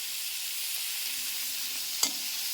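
Coconut crab curry base frying on the stove for Kerala-style crab curry, a soft continuous sizzle with one sharp spoon tap.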